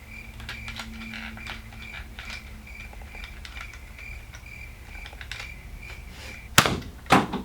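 A kid-sized Nerf blaster toy gun is handled with a run of small, light plastic clicks and taps, ending in two sharp, loud snaps close to the microphone as it is primed and triggered.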